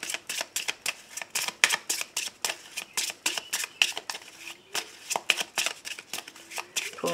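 Petit Lenormand oracle cards are shuffled by hand in quick repeated riffling bursts, each a crisp flurry of card slaps. The bursts come in a steady rhythm and sound close and clear, with faint speech at times.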